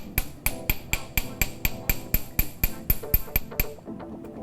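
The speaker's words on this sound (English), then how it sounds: "Flip it over, do a little hammering from the back, not too much" Light metal hammer taps on a jewelry hoop earring worked from the back, about a dozen sharp, evenly spaced ringing strikes close up, fairly gentle.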